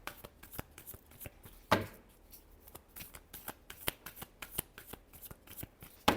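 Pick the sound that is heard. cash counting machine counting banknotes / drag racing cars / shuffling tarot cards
shuffling tarot cards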